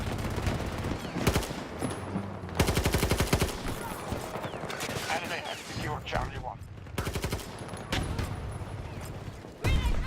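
Gunfire in the shooter video game Battlefield 2042: dense machine-gun bursts and rapid volleys rattle nearby, separated by brief gaps of other combat noise, loud throughout.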